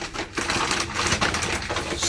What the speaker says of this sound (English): loud plastic bag